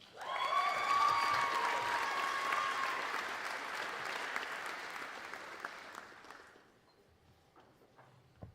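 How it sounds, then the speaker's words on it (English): Audience applause for graduates at a Purdue Honors College medallion ceremony, dense clapping with a few cheers that swells early and then fades away over several seconds. "let's give one more round of applause for our graduates"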